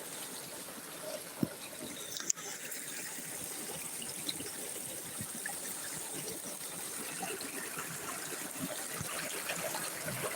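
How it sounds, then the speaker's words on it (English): A river flows steadily outdoors, producing a continuous broadband rush and trickle of water that is faint and even throughout, with a couple of brief clicks near the start. "Oh man, look at this river."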